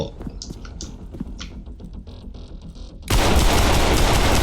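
Gunfire in the shooter game Trepang2 erupts as a loud, sustained burst of rapid shots near the end, after a stretch of scattered clicks, taps and quieter game sounds.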